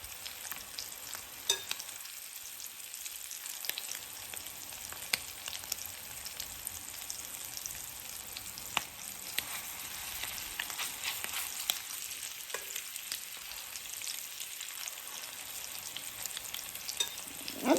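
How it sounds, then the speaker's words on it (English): Crab cakes sizzle steadily in a pan of oil and butter, a dense, continuous frying crackle with scattered louder pops, close and alone throughout. "I like to fry it in my oil and butter"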